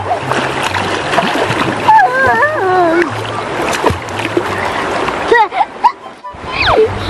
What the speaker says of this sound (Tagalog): Sarap talaga maligo.